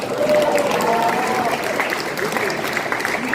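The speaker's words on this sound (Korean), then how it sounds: "박수 한번 보내주십시오" An audience at a political talk-show event bursts into applause, a dense, loud, continuous clapping that fills the room from start to finish.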